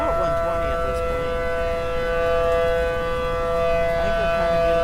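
Tornado sirens in the Roblox game Twisted, a loud sustained civil-defense wail with steady tones droning continuously, slight swells in intensity, no voices.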